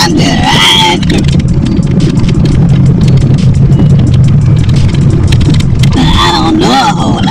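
A car rolls through the streets of New Orleans' Lower 9th Ward, giving a steady, loud engine and road rumble throughout, with music playing over it.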